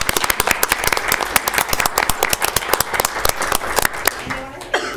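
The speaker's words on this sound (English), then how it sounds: "I think they all deserve a round of applause." Attendees at a county board of commissioners meeting give a round of applause, with sharp, distinct individual claps from a modest group, fairly close and steady before a voice comes in at the end.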